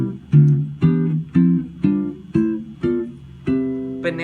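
A musical scale played step by step on an instrument, eight evenly paced notes with a last higher note and a final flourish. The tone is plucked and close, with each note decaying before the next, and no talking.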